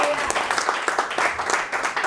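A church congregation applauds and cheers for God during a sermon, with a steady wash of clapping and raised voices filling the room, loud and continuous.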